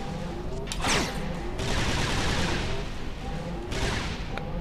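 Heavy gunfire rakes the player in a Resistance 2 ship battle, with bursts of rapid shots and sharp crashing impacts layered over a loud, sustained battle din.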